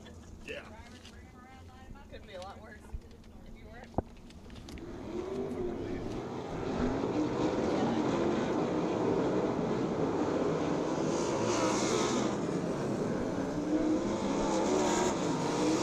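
410 sprint race cars pace behind a Dodge Ram 2500 pace truck at Lincoln Speedway, their engines swelling from a distant rumble into a loud, sustained roar as the field catches up, with an announcer talking over it.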